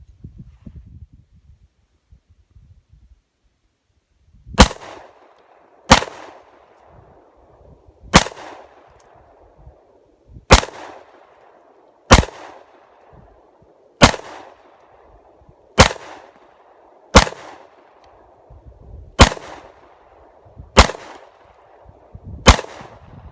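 Eleven sharp, loud shots from a Sig Sauer P365 pistol ring out one at a time at a steady, unhurried pace, each followed by a short echoing tail, after a few seconds of quiet at the start.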